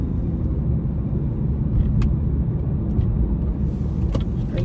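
Chevy Impala driving on a highway, a steady low road rumble and engine drone from inside the car, with a few faint clicks and ticks over the top.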